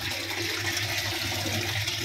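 Water drains steadily from a large aquarium housing big red fish, a continuous rushing, splashing flow at close range with no voices.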